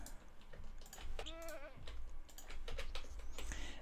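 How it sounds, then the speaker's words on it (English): A goat bleating in Minecraft, one short wavering bleat close by over a busy background of clicks and low rumbling game noise. "that spare goat has been killed off"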